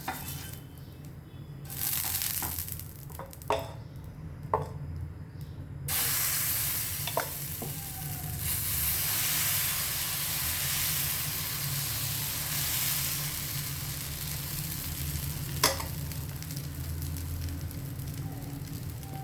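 Dosa batter of ground yellow moong dal sizzles and fries on an oiled pan, a steady crackling hiss throughout with a few sharp utensil clicks and scrapes near the start.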